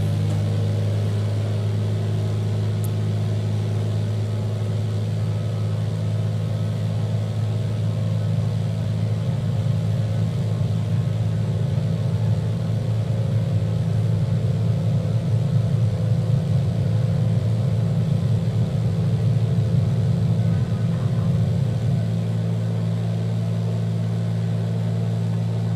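Light aircraft engine at full takeoff power, departing Torrington on its takeoff roll, a steady loud droning hum with a constant low pitch that carries on without a break throughout.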